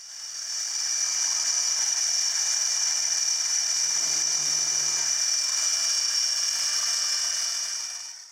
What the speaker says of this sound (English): Now we drill the two